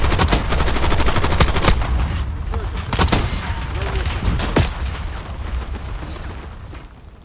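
Dense gunfire from Black Ops 6 on the Area 99 map rattles almost continuously, with rapid bursts and sharp, loud shots crowding the mix at close range.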